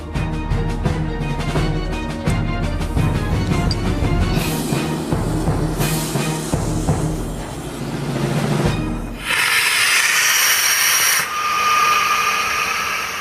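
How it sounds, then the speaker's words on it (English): An evacuation slide bag inflates on rocket gas boosted by compressed gas: a loud, close rushing roar with a rattling, throbbing low end, then a shift to a sharper, higher hiss that surges and dips. "I'm using the rocket gas as a booster and combining it with the compressed gas."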